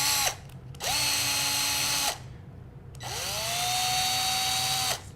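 A drill bit reams out the center hole of a part for 1.75 mm 3D printer filament in two separate bursts, each a rising high-pitched whine that spins up, holds, then cuts off, with quiet pauses between.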